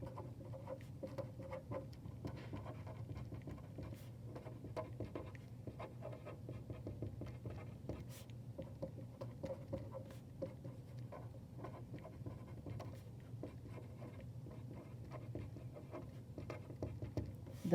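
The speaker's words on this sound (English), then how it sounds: "draw the horizontal and vertical dashed lines through that point" A marker drawing dashed lines on a graph of a rational function: faint, repeated short scratchy strokes in an uneven rhythm, close but quiet over a low background hum.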